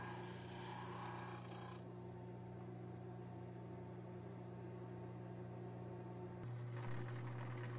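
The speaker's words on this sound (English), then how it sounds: "using this little drum sander on a drill press" A small drum sander mounted on a drill press sands a wooden piece, giving a steady, loud whirring hum with a rasping rub. The tone shifts near the end as the pressure on the wood changes.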